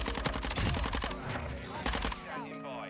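Rapid bursts of Minibak submachine gun fire in Modern Warfare 2 on the Shipment map, loud and close, with busy game effects and a brief tonal sound near the end.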